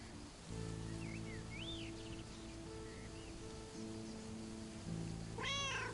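A cat in the video game Lake gives a few short rising meows in the middle, then a louder, closer meow near the end, over a steady low musical hum and soft ambient background.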